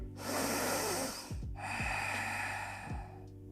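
A slow, deep inhale during a yoga session for the hips on a mat, a steady breathy rush lasting a few seconds with a brief pause, heard close over soft background music.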